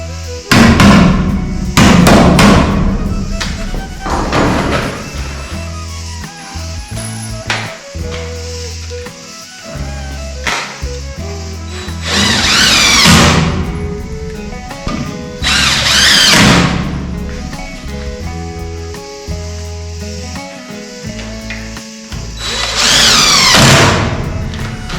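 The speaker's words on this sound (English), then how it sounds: "we're going to hammer it between that 2x4" Loud, irregular hammer blows nail a 2x4 at close range, with bursts of rapid knocks separated by pauses and ringing, rattling noise in between.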